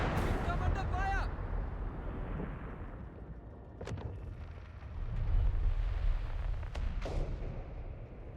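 Battle noise in Company of Heroes 3 as troops come under fire: a deep, rumbling wash of distant artillery and explosions, with a few sharp, isolated gunshot cracks and a swelling boom near the middle.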